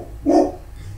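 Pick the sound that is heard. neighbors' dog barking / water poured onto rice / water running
neighbors' dog barking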